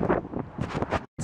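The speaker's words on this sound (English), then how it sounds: "the wind is blowing, like when I decide to vlog" Gusty wind buffets an outdoor microphone in loud, uneven rumbling bursts, cutting out briefly near the end before returning.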